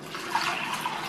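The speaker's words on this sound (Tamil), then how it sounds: "முங்குற அளவுக்கு தண்ணி." Water pours into a pan holding moong dal and turmeric, a short soft splashing trickle, close and quiet, lasting about a second.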